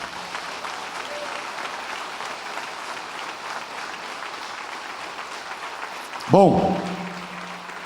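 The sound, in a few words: church congregation applause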